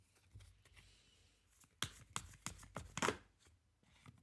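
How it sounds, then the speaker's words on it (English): Tarot cards are shuffled close up in a quiet room, a run of sharp riffling snaps and flicks coming in quick irregular bursts after a soft start. "I'm just going to shuffle from the intuitive tarot now."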